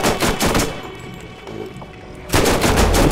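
A Bruiser gun fires in the Borderlands video game, a loud burst of rapid shots up front, then a quieter lull, then another close, heavy volley.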